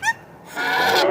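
A sick goose with labored breathing gives a short honk, then a longer, louder, raspy honking call, close and alone.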